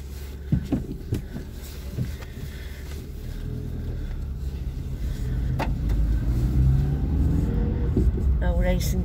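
Car driving down a street, a steady low engine rumble and road noise that grows gradually louder, with a few clicks and knocks inside the cabin and someone talking over it.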